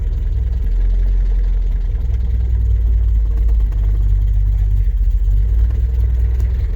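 A 1937 Triumph Dolomite 14/60 saloon's engine runs at a steady, rumbling idle with choke applied, loud and close throughout, with slight fluctuations in revs and no talking.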